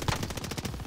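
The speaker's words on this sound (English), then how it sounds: "the MP40 is really just too accurate" An MP40 submachine gun fires a rapid, evenly spaced burst in Call of Duty Warzone on the Caldera map, with loud, close shots rattling continuously for about a second.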